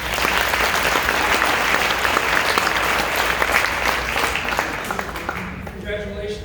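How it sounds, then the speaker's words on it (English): Sustained applause from an audience at a Hall of Fame induction ceremony, steady dense clapping throughout that thins slightly near the end. "Please give them a round of applause."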